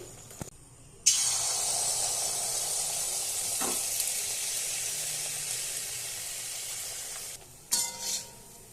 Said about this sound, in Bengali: একই প্রসেসে বাকিগুলিও ভেজে নিচ্ছি